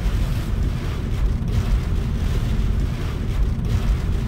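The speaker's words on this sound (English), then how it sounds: "it's gone from almost completely calm to getting some gusts across the highway" Wind gusting across a highway in Mexico ahead of Hurricane Roslyn, a loud low rumble of buffeting against the microphone that keeps going with slight surges and no voices.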